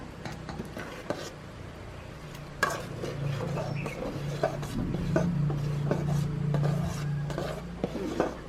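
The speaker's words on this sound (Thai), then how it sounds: "คนให้เข้ากัน ใช้ได้แล้วสำหรับเต้าส่วนของเรา" A utensil stirs thick mung bean pudding in a pot, making repeated scraping and rubbing strokes that continue steadily at close range with no talking.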